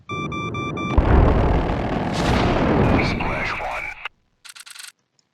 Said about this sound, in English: Yep, heavy missile hit me